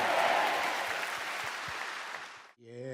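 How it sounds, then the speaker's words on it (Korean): A church congregation applauds warmly during Sunday worship, a loud dense wash of clapping that fades out after two and a half seconds, then a sung or sustained tonal voice begins. "뜨거운 박수로 영광 올려드리겠습니다"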